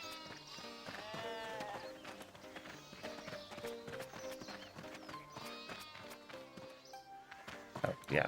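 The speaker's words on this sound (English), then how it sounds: "Trying to shear sheep." Sheep bleat while being sheared in RuneScape 3, a few short bleats over looping game music and clip-clop effects, at moderate level with no talk.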